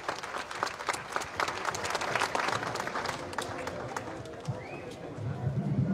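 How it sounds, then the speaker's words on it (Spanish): An audience at a governor's public event in Tecate claps steadily at a moderate distance, dense applause continuing throughout with faint voices underneath. "Fuerte el aplauso, por favor."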